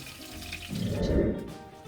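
Water poured into the bottom of a pan while cooking pot roast, a brief, low splashing gush that swells in the middle and then fades, close and fairly quiet, with no talking.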